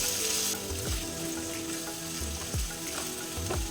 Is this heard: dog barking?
no